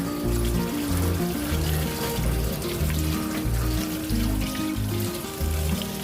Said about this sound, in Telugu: మళ్ళీ చల్ల నీళ్ళతో కడుగుతున్నాను